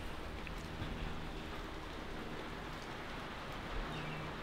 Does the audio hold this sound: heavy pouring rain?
yes